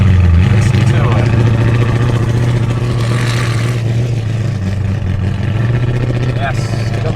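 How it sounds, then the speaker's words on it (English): A noisy Nissan 300ZX idles at a roll racing event with a steady, loud, droning engine rumble throughout, while people talk nearby over it. "Looks like we're going up against the noisy 300 ZX."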